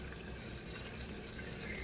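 Tap water runs into a cooking pot for homemade Spaghettios, a soft, steady splashing that continues unbroken for a couple of seconds.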